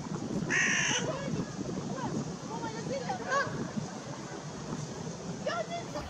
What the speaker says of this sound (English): An envious carrion crow looks on.